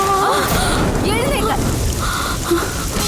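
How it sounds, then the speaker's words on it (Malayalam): Steady rain pours down outside a home, a constant hiss running beneath voices talking over it. "മഴ പെയ്യുന്നോ നീ അറിയുന്നില്ലേടി?"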